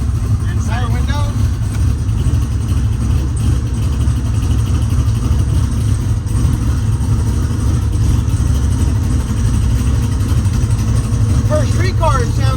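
A street car engine runs steadily at a low, even idle throughout, with people chatting faintly inside the vehicle over the rumble.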